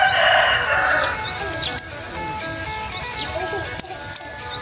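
A rooster crows loudly and close by at the start of an outdoor garden scene in Thailand, followed by steady background noise and faint chirps.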